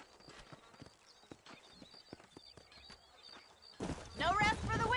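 Horse hooves clip-clop steadily in the Red Dead Redemption video game near Armadillo, a quick even rhythm of hoofbeats at moderate volume, before a voice starts talking over the end.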